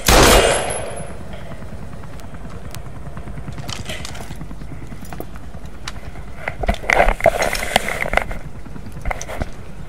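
Automatic gunfire in the video game Metal Gear Solid V: The Phantom Pain opens with a loud blast, then rattles on as a dense stream of rapid cracking shots, swelling into a heavier, louder cluster of bursts near the end.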